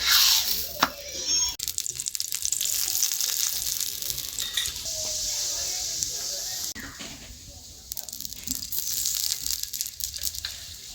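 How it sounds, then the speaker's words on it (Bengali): Cauliflower parathas fry in a hot pan with a steady sizzle and hiss, broken by occasional scraping and turning sounds close by. "সবগুলো এইভাবে ভেজে নেব।"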